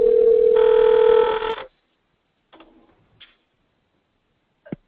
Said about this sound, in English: Oh, somebody's phone is ringing?